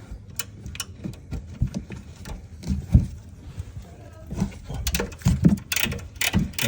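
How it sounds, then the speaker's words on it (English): Ratcheting wrench loosening shock bolts on a 2019 Chevy Silverado 2500 HD, giving rapid irregular clicking bursts with metallic knocks, fairly close, amid workshop clatter. "I do have a ratcheting wrench that I'm using, and it makes life so much easier"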